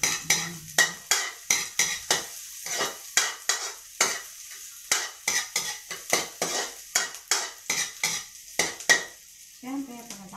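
Onion and garlic sauté in a pan for a ginataang alamang dish with sitaw, a utensil scraping and stirring in quick repeated strokes over a soft, steady sizzle, loud and close.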